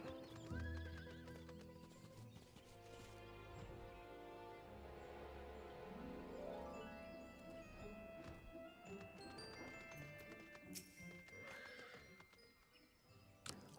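Horse in a fantasy online role-playing game, a loud neigh at the start, then clip-clopping hooves and further whinnies over a layered musical backdrop, with no talking.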